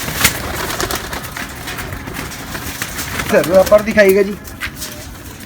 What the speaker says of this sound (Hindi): ये जी आपको एक कबूतर दिखाया जा रहा है, पहले आपको एक मादा दिखाई है